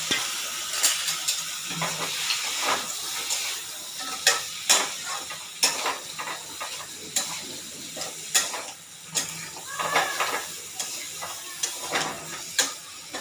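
Fish pieces go into a hot pan and fry, a crackling sizzle broken by repeated sharp spatula clicks and scrapes against the pan, close and fairly loud.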